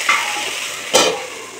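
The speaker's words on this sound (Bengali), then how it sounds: "ঢ্যাঁড়স ভাজতে কিন্তু খুব তেল লাগে, কিন্তু আমি ওই তেলেই ভাজবো" Okra fries in a lot of hot oil with a loud, close sizzle, and a second burst of hiss comes as it is stirred or turned partway through.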